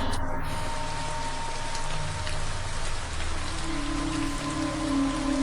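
Steady rain falling on a surface, a dense continuous hiss of drops that stays even and close throughout, with no voices.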